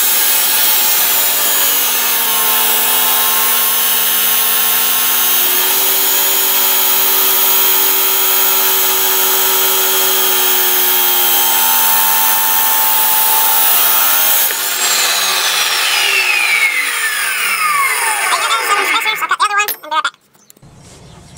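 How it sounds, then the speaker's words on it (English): A power tool cuts a 7-inch angle-iron spacer for a guillotine tool build, producing a loud, continuous, close-up metallic whine and rasp that runs for about twenty seconds, then winds down and stops abruptly. "let's get started cutting the 7-inch spacer"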